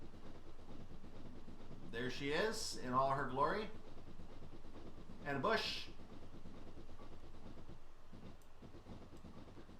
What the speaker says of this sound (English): I'm just going to let the train chug along